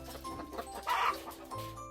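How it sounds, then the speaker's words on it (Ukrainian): A hen clucks softly in short bursts, fairly quiet, with a faint low hum underneath. "Ні, це курка. Вона мама курчаток."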